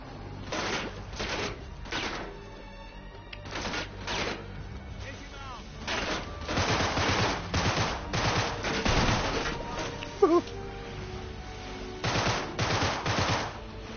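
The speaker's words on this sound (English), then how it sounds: "Sniper fire, man." Gunfire in Uncharted: Drake's Fortune, with repeated bursts of rapid automatic shots and single cracks through the clip, fairly loud, under a player's occasional talk.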